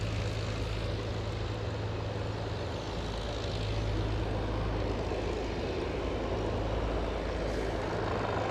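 An airliner at Aberdeen airport lines up on the runway, its engines giving a steady, loud, continuous drone with a low rumble throughout, with no voices.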